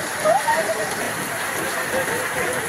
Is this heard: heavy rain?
yes